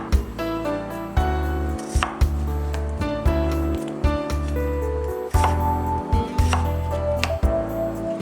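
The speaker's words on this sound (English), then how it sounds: "Peel potatoes and cut into 6 to 8 pieces each." A knife cuts peeled potatoes into chunks on a board, giving a series of crisp, moderately spaced chops under steady background music.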